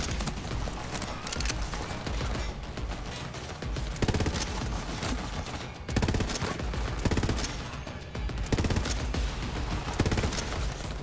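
Sustained bursts of gunfire from Borderlands 3 shooting at a distant enemy, dense rapid volleys with sharp cracks repeating steadily throughout, loud and continuous with no talking.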